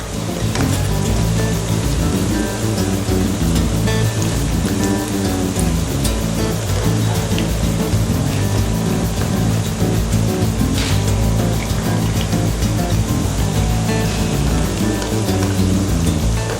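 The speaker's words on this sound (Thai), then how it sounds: "เราต้องการให้เขากรอบมากกว่านี้นะคะ เพราะฉะนั้นก็จะทอดต่อไปนะคะ" Sliced pork intestine sausage and garlic deep-frying in hot oil, a loud, dense, continuous bubbling sizzle that holds steady close up with no voices over it.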